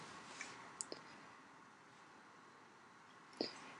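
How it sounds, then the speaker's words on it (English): Computer mouse clicks, a couple of sharp, faint taps near the start and another single click near the end, close and isolated in a quiet room. "And we click on Next."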